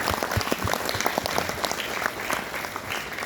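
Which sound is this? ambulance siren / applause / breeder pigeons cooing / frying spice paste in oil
applause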